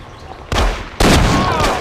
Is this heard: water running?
no